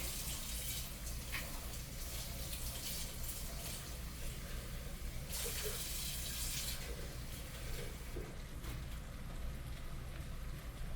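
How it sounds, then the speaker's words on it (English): Water runs and pours into a pot with a soft, uneven splashing over a low steady hum, quiet and close, swelling briefly midway, as it rinses chile. "I'm gonna put some water in here to rinse my"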